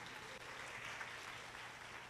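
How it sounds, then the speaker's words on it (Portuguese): Faint, distant applause from an audience at a talk on hospital food service management, a soft even wash of clapping heard briefly from far off. "Uma salva de palmas para a Aline, gente!"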